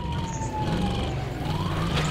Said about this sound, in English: Somebody got a siren on.